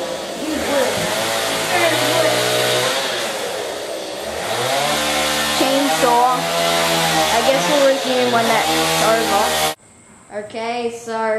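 Chainsaw in the Skylanders Giants video game, a loud continuous buzzing engine whine that rises and falls in pitch for several seconds, then cuts off abruptly into brief game sounds.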